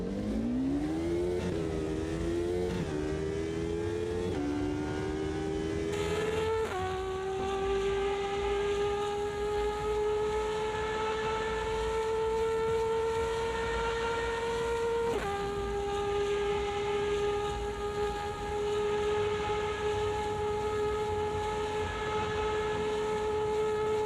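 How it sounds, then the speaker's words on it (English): A race car engine from the 2005 endurance class in the racing sim Automobilista 2 climbs through the revs with several quick gear shifts, then settles into a loud, sustained high-pitched drone with one more shift midway. "Is this now one of the best engine sounds in AMS2?"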